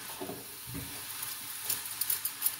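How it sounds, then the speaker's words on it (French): Sliced Chinese cabbage softening in a hot pan, a light continuous sizzle with soft stirring scrapes and brief spatters toward the end. "je vais laisser cuire ça un petit peu, que ça fonde un peu"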